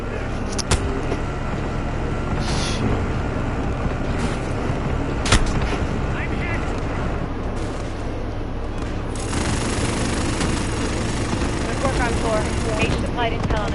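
Enemy mortar fire in a war video game, dull booms and scattered blasts over a constant din of battle noise, vehicles and gunfire, with voices talking throughout.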